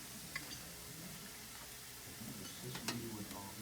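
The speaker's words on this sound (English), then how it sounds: "I'm going to put a little bit of olive oil in the pan, turn my skillet back on." Olive oil heats in a skillet during a cooking demonstration, giving a faint, steady sizzle with a few small crackles, low and even throughout.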